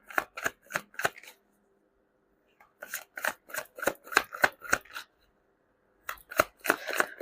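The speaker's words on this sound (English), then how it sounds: "let's try to pull up another set of cards" Tarot cards are riffled and drawn from a deck close to the microphone in three clusters of quick crisp snapping flicks separated by short silences.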